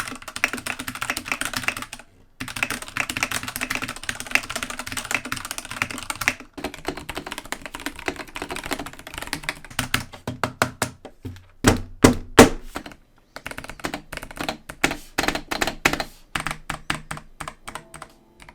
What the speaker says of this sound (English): here's what my Keychron C1 sounds like using that shotgun mic.